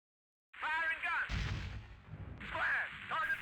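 A laser-guided bomb explodes in the Strike Fighters 2 flight combat game, a single deep booming blast with a rumbling tail after a short electronic tone, followed by another rising synthetic tone.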